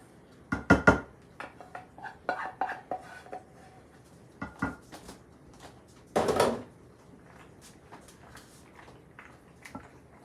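Cheese sauce being stirred into mac and cheese in a dish, with several scattered clinks and scrapes of a utensil against the dish and one longer scraping stir, between quiet pauses.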